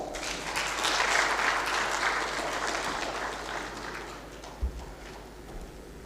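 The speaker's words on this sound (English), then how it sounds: "let's welcome him with a huge round of applause." Audience applause at an aerospace and defence festival, a steady wash of many hands clapping that stays loud and dense for several seconds before easing slightly, with a brief thump near the end and no talk.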